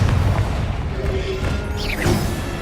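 A Confringo blasting-spell explosion in Hogwarts Legacy: a loud, close, rumbling boom that fills the clip, with a whooshing magical sweep and a brief tonal ring near the end.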